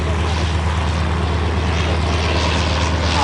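A vintage aircraft's rotary propeller engine drones steadily with a low, throbbing hum, loud and close, holding constant throughout.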